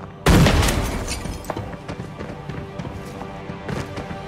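A single loud, close grenade blast in the video game Arena Breakout hits with a sudden boom, then decays into a rumbling tail with scattered debris clicks and faint footsteps.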